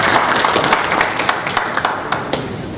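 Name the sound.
audience applause at seminar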